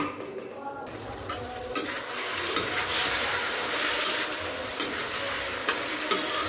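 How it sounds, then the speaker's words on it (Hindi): Bottle gourd curry is stirred in a frying pan, a loud, close, continuous sizzle with repeated scraping strokes of a spoon against the metal and occasional clinks, with no talking. "सब्ज़ी देख लेते हैं कि बनी है कि नहीं बनी है।"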